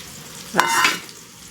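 Onion, green chilies, cashews and poppy seeds drop into hot oil in a pan for a Bengali fried-spice prawn dish, giving a sudden loud sizzle that swells and then settles into a steady frying hiss, with no talking.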